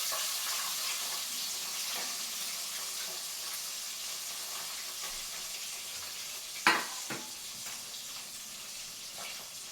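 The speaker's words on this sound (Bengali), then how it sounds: "এবার একটু ভেজে নিই" Pabda fish fries lightly in a pan with a steady soft sizzle throughout, with a couple of sharp spatter pops near the end and no talk.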